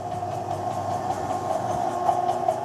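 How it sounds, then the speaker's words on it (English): Car wash motors and pumps, including a pressure pump of about 1,000 PSI, hum steadily with a strong tonal drone and mechanical rumble, continuous and close, with no talk. "So there's all the motors and pumps down here"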